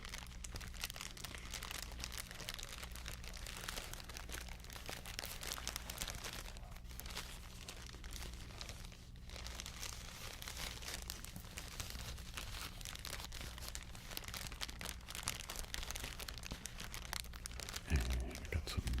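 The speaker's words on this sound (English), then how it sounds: "I got some crinkling bags over there" Bags are crinkled continuously for a long stretch, a dense, steady, soft rustling and crackling at low level with no speech.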